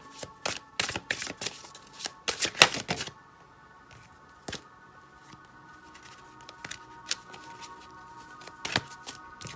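Tarot cards are shuffled in quick, crisp riffles and soft slaps, coming in irregular bursts with a longer quiet gap in the middle, close and fairly faint.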